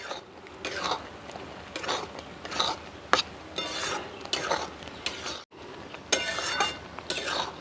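Mung dal with radhuni paste stirred in a pan with ash gourd, giving intermittent scraping and sloshing strokes of a spoon in a repeating rhythm, close and moderately loud, with a brief pause midway.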